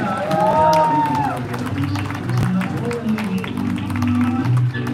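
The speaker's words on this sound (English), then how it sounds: "can we please have a big round of applause for the bride's grandmother, Naina Mulay" Wedding guests applauding for the bride's grandmother, a steady wash of clapping and crowd noise that continues throughout, with voices and some cheering mixed in.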